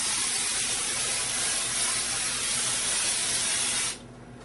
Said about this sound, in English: The great thing about this Home X spray texture is the fact that you don't need a compressor, you don't need a hopper, all you need is this can.